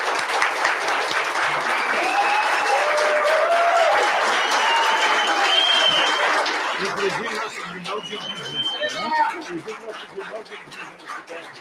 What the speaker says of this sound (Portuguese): Palmas para essas pessoas.